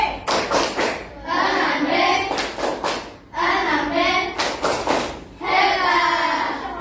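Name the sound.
class doing the 'tepuk hebat' rhythmic clap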